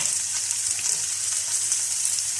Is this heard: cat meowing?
no